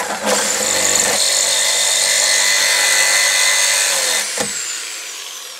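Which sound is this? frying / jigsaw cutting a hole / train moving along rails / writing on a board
jigsaw cutting a hole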